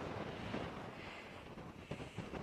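Wind blowing outdoors at the Fairy Pools on the Isle of Skye, a faint steady rushing buffet across the microphone with small gusts and no voices.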